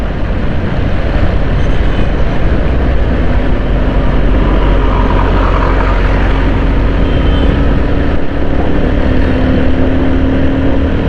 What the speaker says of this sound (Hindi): मैं मोटरसाइकिल थोड़ी सी इसलिए तेज़ चला रहा हूँ